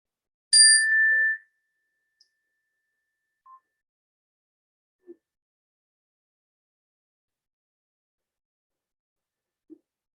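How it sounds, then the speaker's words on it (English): A meditation bell is struck once to close a session, giving a clear bright ring with shimmering overtones that fades within a second, followed by a few faint, scattered soft taps in otherwise near silence. "I invite the bell to bring our time to an end"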